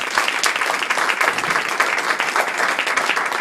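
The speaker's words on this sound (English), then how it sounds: "Let's give him another round of applause" Loud, dense applause from a crowd at a motivational talk, a continuous roar of many hands clapping close and sustained without pause.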